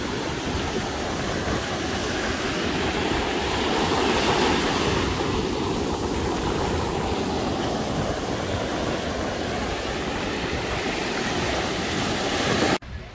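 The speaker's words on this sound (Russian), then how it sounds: "Надо немножко океан поснимать." Ocean surf on a beach as a continuous loud roar of breaking waves with a broad, steady wash and no speech.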